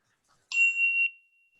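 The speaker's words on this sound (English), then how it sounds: "I'll chime us in." A single meditation chime, a small bell struck to open a quiet virtual retreat session, rings once clearly and close, its bright tone sustaining and fading out slowly into silence.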